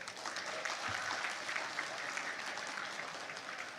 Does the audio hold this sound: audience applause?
yes